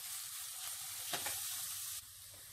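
Carrots, peas and capsicum cooking in a pan, a continuous close sizzle with a brief stirring rustle in the middle before the sound drops to a quieter hiss.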